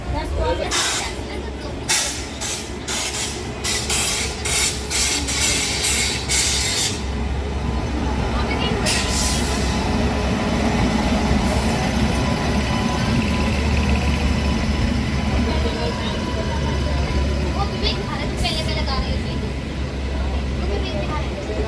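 The Sampoorna Kranti Express, running from Rajendra Nagar to New Delhi, travels the Howrah–New Delhi line through the Rajnagar area of Ghaziabad with a continuous low rumble and occasional clatters, while a person talks over it.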